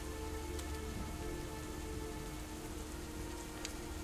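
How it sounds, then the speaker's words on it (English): Steady heavy rain pours down in the video game Over the Hills and Far Away, a constant dense hiss of drops on the ground with no voices, even and unbroken throughout. "The rain continues to pour down from above."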